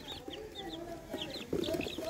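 Chickens cluck and a duck or two calls nearby in a farmyard, a short burst of overlapping fowl noises that grows louder near the end.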